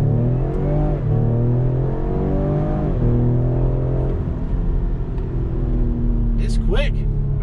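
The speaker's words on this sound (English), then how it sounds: "Now I'm just gonna floor it." A 2021 Ford Explorer ST accelerates hard under full throttle, its engine droning steadily and rising in pitch from low speed in a continuous loud build, with a voice talking over it inside the cabin.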